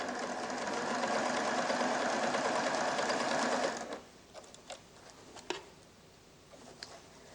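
A 1987 Pfaff Creative 1471 sewing machine stitches a diamond pattern in a fast, steady whir for about four seconds, then stops, leaving only a few faint clicks and taps.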